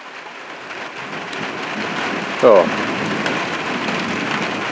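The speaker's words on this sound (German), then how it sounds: "das scheint der erste vernünftige Regen zu werden seit schlappen 4 Monaten" Steady rain pouring down in August after a long drought, a constant close hiss of drops with one brief sharper burst midway and a short spoken word.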